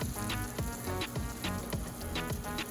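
Butter sizzling in a frying pan on the stove, a steady, fairly quiet crackling hiss with fine popping throughout, with no voices.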